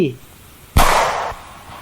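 One sharp, loud gunshot-like bang cracks out and rings off in a fading tail, with a faint voice trailing away just before it.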